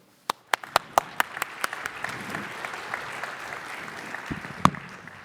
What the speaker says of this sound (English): Let's give a round of applause to Dave Sawyer.